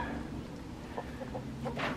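Farmyard chicken clucking among a backyard flock: a few short, soft clucks and squawks, the last burst slightly louder, over steady low background hum.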